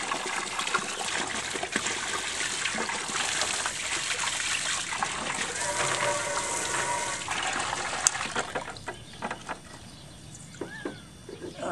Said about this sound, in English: Just turn your pump on.